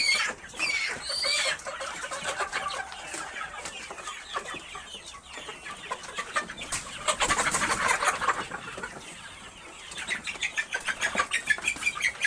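Layer hens on a poultry farm cluck continuously at close range, with scattered squawks and some wing flapping rising and falling over the flock.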